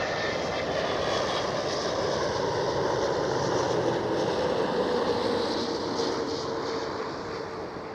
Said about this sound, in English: Delta Airlines A330neo